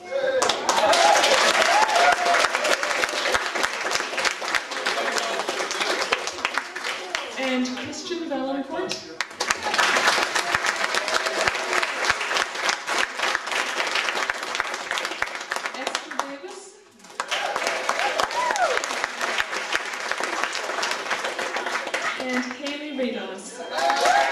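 An audience applauds children at a vacation Bible school closing program, a dense, steady wash of clapping that runs loud for most of the stretch, with brief dips in between.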